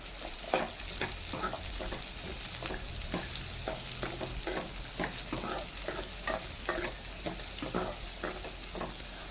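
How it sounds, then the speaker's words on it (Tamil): Bitter gourd sizzles steadily in hot oil over a low flame for a Tamil bitter gourd curry, while a spoon stirs and scrapes the pan in repeated strokes; no voices. "பாவக்காவும் எண்ணெயிலே நல்லா வதங்கணும்"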